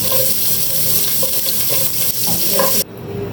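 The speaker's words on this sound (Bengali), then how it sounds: "তো আমার পেঁয়াজগুলো ব্রাউন করে ভাজা হয়ে গিয়েছে" Chopped onions browning in oil and ghee for a homestyle mutton kacchi biryani, a loud, dense, continuous sizzle close by that suddenly drops near the end.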